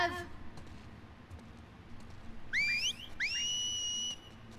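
A two-part whistle signal in the video game The Last of Us Part 2 rises in quick sweeping notes, then holds a long steady tone, loud and near over quiet ambience.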